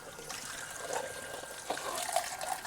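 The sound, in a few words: tap water rinsing a washed dish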